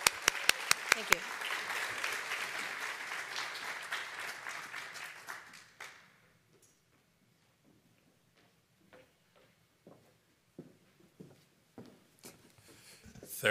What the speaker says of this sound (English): Let's have a round of applause for the 35-year awardees.